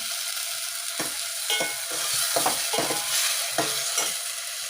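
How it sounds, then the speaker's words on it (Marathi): Ground masala paste for misal fries in hot oil with a steady, close sizzle. Scraping spoon strokes against the pan come in short, irregular bursts, and no one talks. "वाटण सुद्धा तेल सोडायला लागलेलं आहे, बघू शकता तुम्ही"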